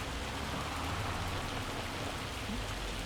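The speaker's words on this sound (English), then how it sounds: "Let's get out of the rain. Or hail, I should say." Steady, dense rain and hail drumming inside the Farming Simulator 25 video game, a continuous hiss of falling drops with no voices, loud and even throughout.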